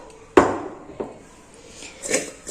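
Mango pieces for a sour pickle are tossed with salt and turmeric in a container, giving a sharp knock followed by softer scraping and clattering movements, close and with no talk.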